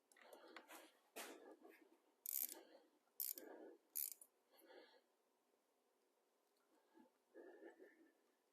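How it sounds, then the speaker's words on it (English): Small ratchet tightening spark plug coil screws on a 2012 Mercedes S550 W221 M278 engine, quiet bursts of clicking pawl strokes separated by short pauses, close and alone. "Now I'm going to finish tightening them up with a small ratchet."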